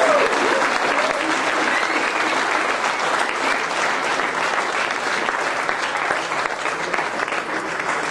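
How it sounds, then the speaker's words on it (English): A crowd at a college auto show applauds steadily for several seconds, a dense, even wash of clapping with no pauses. "we're going to give them a round of applause"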